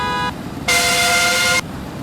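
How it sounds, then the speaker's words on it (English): A truck horn with a car-like tone sounds twice: a short honk and then a steady blast of about a second, loud over the road noise of a moving cab. "it sounds just like a car horn"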